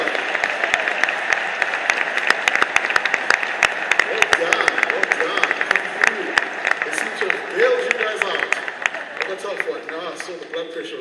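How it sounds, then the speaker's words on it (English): Scattered, uneven clapping from a crowd in a room at a South African international convention evening event, sharp claps popping up irregularly while voices talk and murmur throughout. "Give them a round of applause, please."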